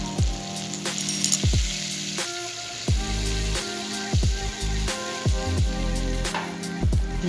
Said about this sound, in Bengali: আমি মশলাগুলোকে ভালো করে কষাবো, এখন কষাচ্ছি।